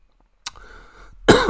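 A man fighting a cold coughs twice, a short sharp cough followed by a heavier, louder one after a brief pause, close to the microphone in a quiet room.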